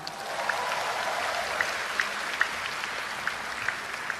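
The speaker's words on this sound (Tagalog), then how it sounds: "Malakas kung pumalakpak." A church congregation at a healing service applauds in a steady, moderate wash, with a few sharper individual claps popping out, and no speech on top.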